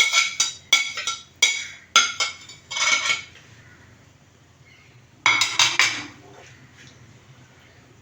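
A spoon stirs thick chicken curry gravy in a pot, giving repeated bursts of metallic clinks and scrapes against the pot wall, loud and close, with a quiet pause before a final flurry.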